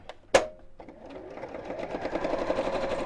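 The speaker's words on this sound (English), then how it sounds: "if you choose a zigzag stitch on your sewing machine" A sewing machine starts with a sharp click, then runs steadily with a rapid mechanical whir while zigzag stitching, gradually building in loudness as it stitches.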